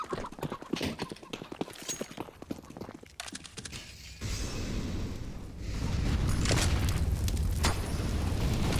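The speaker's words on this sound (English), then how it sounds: "That was all grenade damage" A grenade blast in Counter-Strike: Global Offensive on the Inferno map during a professional match, a sharp burst followed by a sustained roaring rumble and fire crackle over busy footsteps and game noise.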